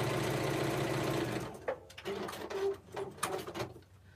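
A sewing machine stitches fabric pieces together for a small heart project with a steady whirring hum. It then breaks into short, irregular bursts of stitching and clicks, with cooing birds in the background.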